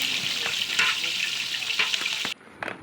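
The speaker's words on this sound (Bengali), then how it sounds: "এখন এখানে রুই মাছ ভাজা হচ্ছে।" Rohu fish fries in hot oil for a festive meal, giving a loud, steady sizzle with a few crackles that breaks off near the end, leaving quieter background.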